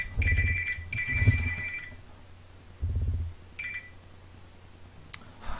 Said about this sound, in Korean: 스팸 전화 너무 많이 온다.